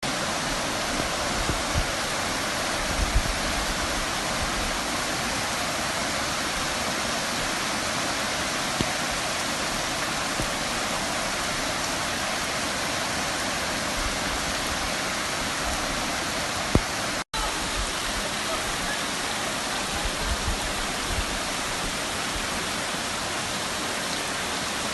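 Heavy rain pours steadily in the Cariri region, a dense, constant roar of rushing water and drumming drops that fills the whole stretch, loud and close with no voices.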